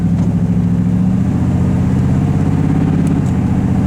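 The 6.0 LS V8 of an Oldsmobile Custom Cruiser wagon revs up under load, its low drone climbing in pitch, then briefly drops as the automatic transmission shifts before pulling again.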